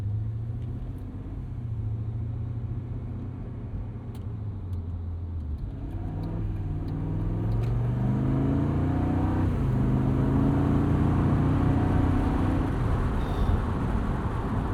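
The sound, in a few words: BMW Z8 Alpina V8 engine revving while driving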